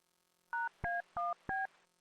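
Four DTMF touch-tone beeps from a telephone keypad as a number is dialed, each short dual-pitched tone evenly spaced and clear in an otherwise quiet room.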